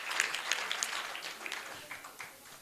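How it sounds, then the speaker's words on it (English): A crowd applauding at a graduation ceremony, dense clapping that holds steady for a few seconds before slowly thinning out, heard from within the room. "Can we get a round of applause for everybody?"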